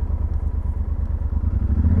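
Yamaha Super Tenere motorcycle engine running close by, a steady low rumble with a slight rise as it is put in gear and the clutch is worked, no talking.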